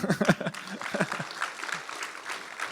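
Audience applause at a business talk about webinars, scattered clapping that starts louder and thins out, mixed with some voices early on.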